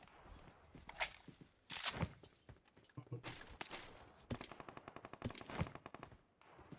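Rapid automatic gunfire from the PUBG Mobile battle royale game during a grand-finals esports broadcast, loud repeated bursts and a long rattling volley of evenly spaced shots, with scattered footstep-like taps between them.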